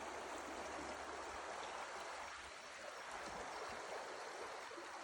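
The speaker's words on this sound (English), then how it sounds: "So this is the Green River in Split Mountain Canyon." The Green River flows through Split Mountain Canyon in Dinosaur National Monument, making a steady, broad rushing wash of moving water that stays even and continuous from start to finish, with no voices.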